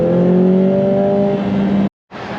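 A Lotus Emira engine revving hard as the throttle is punched, a loud, close rising whine and rumble that cuts off abruptly, then resumes briefly.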